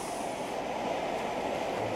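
Steady, even roar of a Lixada camping gas stove fed from a little gas bottle, close by and unbroken for the whole stretch.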